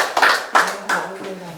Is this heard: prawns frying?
no